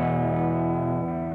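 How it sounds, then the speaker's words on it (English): Crunchy, warm tape-style saturation and distortion from the Numerical Audio RE-1 tape echo app on an iPad, a sustained, dense processed tone holding loud and steady for the whole moment without any talking. "Just really cool, crunchy little distortion here."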